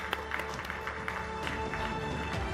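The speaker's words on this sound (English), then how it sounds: "Big round of applause" A conference audience claps in a steady, dense burst of applause, filling the space at moderate volume, with no voices on top.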